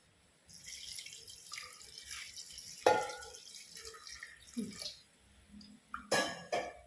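Water splashes and trickles into a pot of beef curry, with several separate pours and drips in a quiet kitchen, close and moderately loud with no talk.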